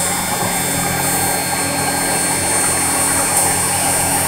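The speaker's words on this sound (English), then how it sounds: "the runner already cut by 2mm milling cutters" Continuous high whine and hum from a small CNC mill finishing an injection mold runner with a roughly 2.3 mm end mill, loud and steady throughout with no talk.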